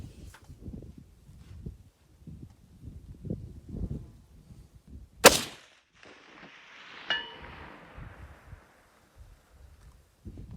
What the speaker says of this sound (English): This is gonna be a 479-yard shot at this piece of steel.